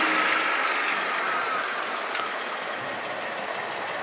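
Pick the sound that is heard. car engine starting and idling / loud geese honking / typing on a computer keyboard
car engine starting and idling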